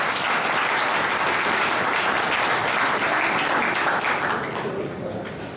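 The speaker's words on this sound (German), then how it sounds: "darfst du klatschen" An indoor audience at a Lenten satirical sermon event bursts into dense, sustained applause, loud and even for several seconds before tapering off at the end, with some talk beneath it.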